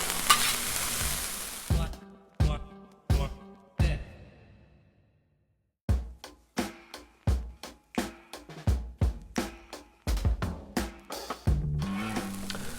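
Mixed Spanish omelette vegetables cooking on a Blackstone griddle, a sizzle under rapid metal spatula scrapes and taps that come in quick bursts, pause briefly, then resume in a fast rhythm.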